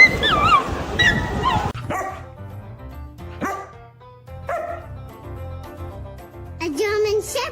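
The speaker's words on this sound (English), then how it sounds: "A German Shepherd dog." A German Shepherd dog gives sharp barks, yips and whimpering whines at close range, in bursts spread across the clip, with people's voices mixed in.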